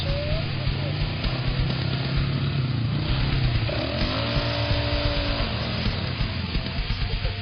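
A 2009 Polaris Scrambler 500 ATV drives into a wood chip pile in all-wheel drive, its engine droning steadily and rising in pitch, with a voice talking over it.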